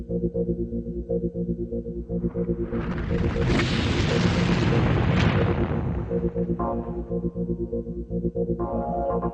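A deep, roaring volcanic eruption blast swells over a steady low hum, building from about two seconds, peaking loud and dense, then fading out by six seconds before the background drone returns.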